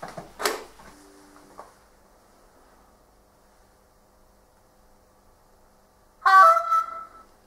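A model train locomotive sounds its horn at a signal: a short, bright tonal toot near the end after a long quiet stretch, preceded by faint mechanical clicks.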